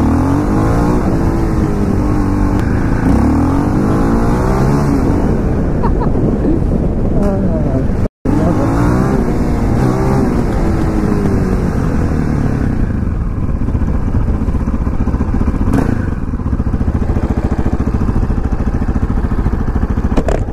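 KTM LC4 640 single-cylinder motorcycle engine pulling hard on a test ride, a steady loud drone heavily buffeted by wind noise throughout, with a brief cut partway through.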